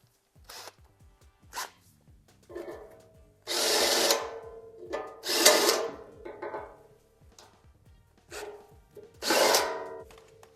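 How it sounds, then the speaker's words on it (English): A power drill clears a bolt hole in a steel Jeep Wrangler JL bumper, running in several short loud bursts separated by pauses and small clicks and clatter, close by with no talking. "So I might just have to run a drill through here just real quick"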